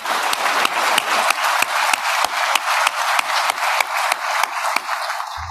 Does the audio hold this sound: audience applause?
yes